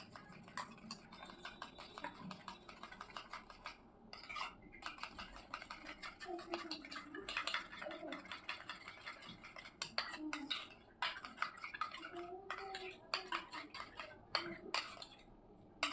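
A spoon whisks egg roll batter seasoned with turmeric in a bowl, producing rapid clicking taps against the dish in bursts with short pauses, while a faint voice murmurs now and then in the background.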